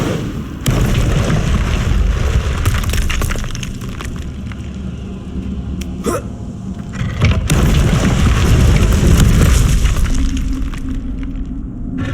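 A fire spell cast in Hogwarts Legacy, heard as a loud, dense burst of crackling, booming roar that swells and holds, with sharp bright cracks punctuating a sustained rumbling blaze and no talking.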